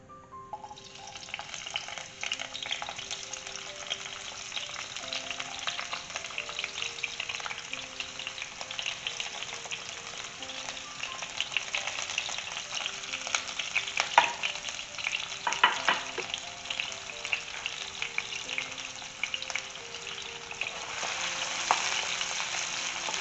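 An onion frying in two tablespoons of oil in a pan, a steady bright hiss and crackle that builds after a quiet start and continues evenly, with occasional faint stirring knocks.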